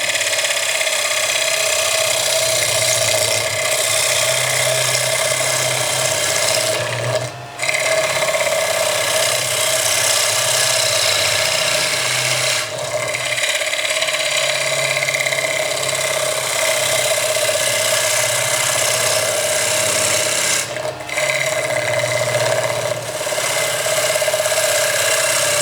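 Wood lathe turning a large salad bowl with the gouge bevel rubbing, a loud steady motor hum under a continuous hissing cut that breaks off briefly twice as the tool is lifted and brought back in.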